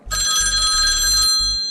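A telephone bell rings loudly and close, a bright continuous metallic trill with a brief break near the end, with no voices over it.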